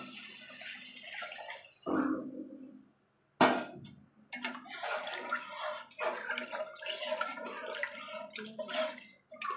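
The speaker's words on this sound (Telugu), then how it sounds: "3 జగ్గుల వాటర్ ఇందులో యాడ్ చేసుకుందాము" Three jugs of water pour and splash into a pot of chicken pulao in two close, steady streams, separated by a short pause.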